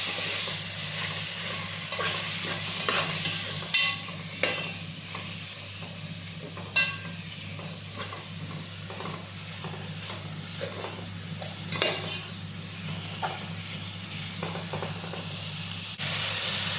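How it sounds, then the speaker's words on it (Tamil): Tomatoes and green chillies sizzle and hiss steadily in a hot pan, with occasional stirring scrapes and clinks throughout and no voices. "சேர்த்து தக்காளி நல்லா வதக்கிக்கலாம்."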